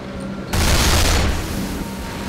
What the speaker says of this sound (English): It's a Tommy gun with a circular drum magazine.